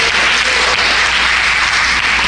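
A church congregation claps together in a dense, steady burst of applause during a Spanish-language worship service, filling the room briefly at close range with no voices on top.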